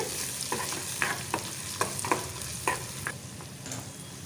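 Thinly sliced onion fries with green chillies and curry leaves in a pan until soft, a steady low sizzle broken by sharp, irregular clicks of a spoon stirring against the metal.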